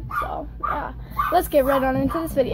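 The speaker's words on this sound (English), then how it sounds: "Sorry for the dogs barking." Dogs barking in the background of a home while a person talks over them, the barks coming in several short bursts behind the speech.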